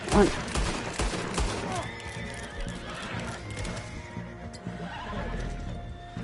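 Horses neigh and whinny with clip-clop hooves in Red Dead Redemption 2 Online, mixed with distant gunfire bursts in a busy outdoor game scene.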